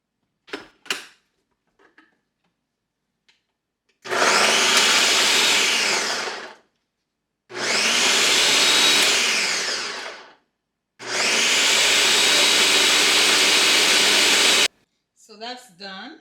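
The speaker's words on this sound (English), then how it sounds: "we're gonna pulverize that in our Ninja" A Ninja blender pulverizes pepper and oil in three loud, steady bursts of whirring motor roar separated by pauses, close by, with faint clicks and brief talk around them.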